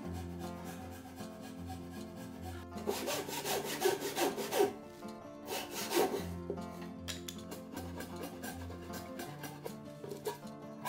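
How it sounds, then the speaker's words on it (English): A fine Japanese handsaw cutting a dovetail joint in 200-year-old Kiso cypress, with rhythmic back-and-forth rasping strokes close up, a steady series of cuts heard over soft background music. "cut the dovetail joint along the line with a fine handsaw"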